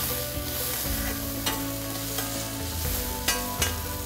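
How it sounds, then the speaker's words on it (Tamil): Ginger sizzles and fries in a pan, with a steady crackle broken by a few sharp stirring scrapes, close and alone. "சேர்த்து நல்லா நம்ம வதக்குறோம்."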